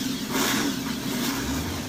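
A heavy monster truck engine in the video game SnowRunner rumbles steadily at low pitch, with a faint rising rev partway through, continuous and fairly close, with no talking.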